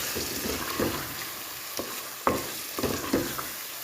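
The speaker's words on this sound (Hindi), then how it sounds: "अब इसमें आलू और ये 2 हरी मिर्चें मैंने काटी हैं ये इसमें डाल दें" Potatoes and two chopped green chillies sizzle as they fry in cooked-down masala with oil risen to the top, a soft, steady frying hiss broken by a few scraping stirs and taps, heard close with no talking.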